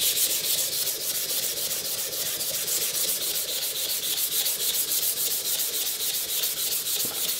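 Sandpaper scrubs steadily against a ceramic honing rod in quick, even back-and-forth strokes, a close, dry rasping that continues throughout with no talking.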